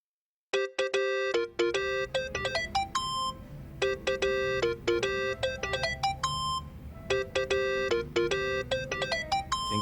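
Phone ringtone in the video game Yakuza: Like a Dragon, a bright melodic electronic chime looping in repeated phrases after a brief silence, loud and clear over a low background hum with no talking.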